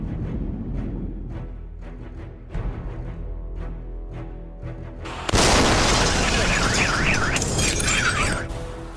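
The Chelyabinsk meteor explodes with a sudden loud boom and shattering roar after a stretch of rumbling, followed by a sustained blast of noise with a siren wailing through it.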